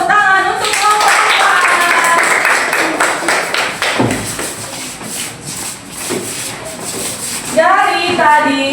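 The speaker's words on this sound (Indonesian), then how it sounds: "Beri tepuk tangan untuk kelompok 4." Classroom applause for student group 4 after their presentation, with a steady, dense patter of many hands clapping close by for several seconds as voices chatter underneath and rise again near the end.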